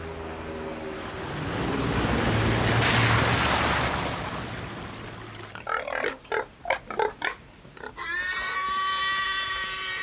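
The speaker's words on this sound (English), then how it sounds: "The last of the sentinel pigs are penned near a remote airstrip on Cape York." Sentinel pigs penned near a remote airstrip on Cape York, heard as a few short close grunts and squeals midway, following a stretch of broad wind-like rushing and ahead of a tonal ending.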